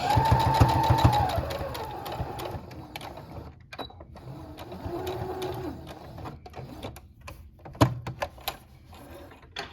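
A sewing machine stitches doll nightgown fabric, running in short bursts with pauses and a few clicks and knocks as the needle is lifted and bulky fabric is shifted.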